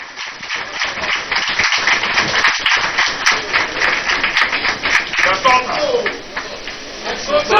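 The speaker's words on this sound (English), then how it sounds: "A round of applause." Audience applause at a live port and maritime sector engagement event in Tema, Ghana: steady, dense clapping that fills the whole moment without a break, fairly loud and close, with no voices standing out over it.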